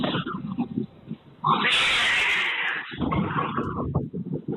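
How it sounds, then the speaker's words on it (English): Cats fighting with each other let out a harsh, drawn-out yowl in a sudden burst, with quieter scuffling and muffled noises before and after. "Sounds like the cats just like got pissed off at each other at random"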